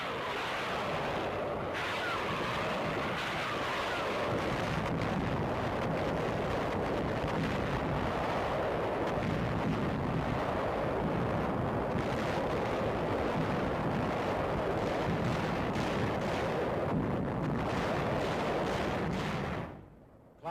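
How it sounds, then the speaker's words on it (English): Heavy naval and aerial bombardment of Balikpapan shore defenses in 1945, a continuous roar of explosions and gunfire rumbling for about twenty seconds before cutting out abruptly. "taking part in the intense aerial and naval bombardment which preceded the invasion"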